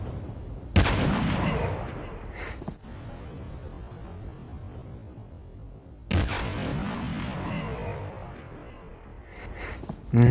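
Gunfire in Call of Duty Mobile, including sniper rifle shots, with two loud sharp reports about five seconds apart, each trailing off into a long rumbling decay, plus a third shot at the very end.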